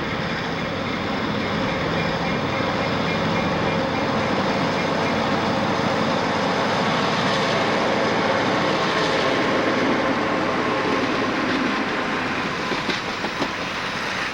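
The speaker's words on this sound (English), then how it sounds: "On the point of this train is the last of 7 E6 locomotives bought by B&O." B&O passenger train led by an E6 diesel locomotive, a steady, loud rumbling roar of engine and rolling wheels that holds continuously for the whole stretch, heard close by.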